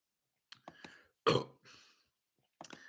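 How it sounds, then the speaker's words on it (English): A burp after sipping a Cherry Lime Rickey soda, one loud guttural belch standing alone between short vocal sounds close by. "Makes me burp, though."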